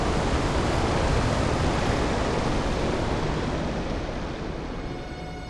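Water drains out of a shark tank in Resident Evil Director's Cut as a loud, dense, continuous rushing that tapers off slightly toward the end, with no voices.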